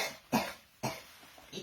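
A human voice imitates a dragon coughing while reading aloud from The Paper Bag Princess: two hoarse, breathy coughs about half a second apart, then a softer third one, close and alone.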